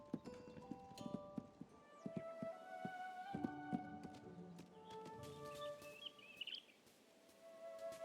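Birds chirp softly in a calm Tales of the Shire countryside scene, faint high tweets scattered over steady clip-clopping hooves and quiet ambient music.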